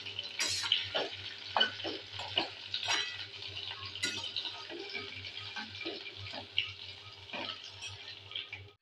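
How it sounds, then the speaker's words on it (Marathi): Capsicum frying in hot oil with mustard seeds, giving a steady low sizzle with scattered spatters and pops and a few sharp clinks of a spoon stirring the pan, no voices. "छान अशी तेलामध्ये मोहरी, शिमला मिरची ही अशी करपून घ्यायची"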